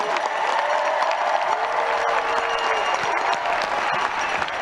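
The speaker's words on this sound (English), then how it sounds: "About a round of applause for the class of 2021." A large crowd at a winter commencement applauds the graduating class, steady massed clapping with scattered cheers throughout.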